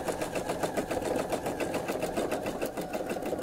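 Free motion quilting on a sewing machine, its needle hammering in a fast, even rhythm through fabric, close and continuous with no voices.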